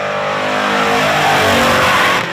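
A 1981 Chevy Camaro race car with a 602 crate engine revs loud and close at a dirt track, its engine note rising steadily and holding strong throughout.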